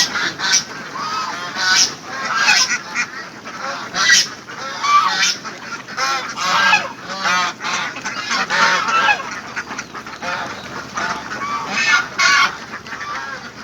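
A flock of ducks feeding, their dense honking quacks overlapping in a loud, continuous chorus close by with no voices.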